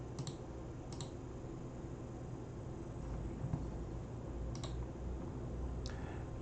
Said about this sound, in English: let's type in the command